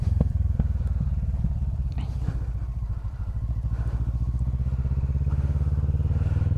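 A motorcycle ridden with its clutch cable broken, shifting gears without the clutch: a steady loud low engine rumble close to the listener, with small clunks at the gear changes and someone talking over it.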